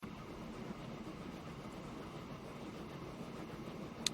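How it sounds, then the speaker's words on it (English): Trains run in the rail simulation Transport Fever: a continuous low rumble of rolling stock, steady and moderately loud, with one sharp click right at the end. "we're just going to get these trains running on a regular clip"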